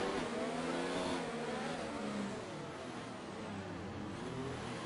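Formula One cars racing around Monaco in F1 2019, a dense, continuous engine roar with shifting revving pitches, loud and unbroken with no voices.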